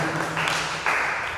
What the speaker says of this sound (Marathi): आपण सर्वांनी फादरचं टाळे घालून त्यांचं स्वागत करूया